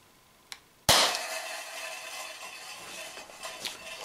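An Umarex TP50 compact air pistol firing an aluminium ball gives a single sharp, loud bang, preceded by a faint click and followed by a ringing, reverberant tail.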